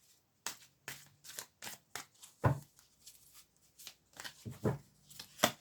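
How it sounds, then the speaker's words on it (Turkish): Tarot cards shuffled by hand in a series of crisp, papery riffles and slaps, about a dozen short bursts with brief pauses between, close and fairly quiet with no talking. "Evet şu kartlar karışmış gene."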